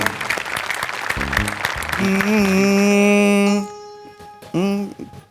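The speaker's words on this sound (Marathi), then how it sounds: "पंडितजींसाठी एकदा जोरदार टाळ्या" Applause for a Panditji fills the first two seconds, then gives way to a sustained tonal voice or instrument note.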